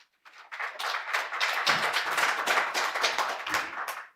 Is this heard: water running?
no